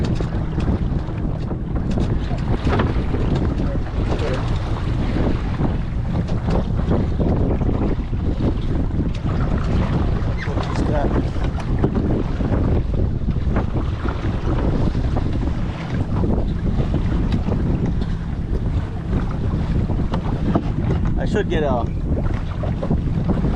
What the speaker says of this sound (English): Some wind here.